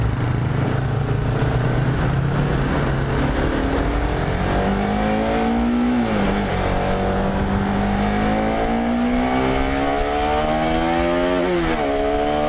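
A Bajaj Pulsar RS200 motorcycle ridden on a highway, its engine note rising and falling through gear changes and revs over constant loud wind rush, close and continuous with no talking.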